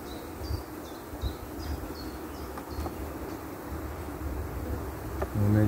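Honeybees hum and buzz around a hive during swarm and queen checks, a soft steady drone with a few closer passing buzzes and a dull thump near the end.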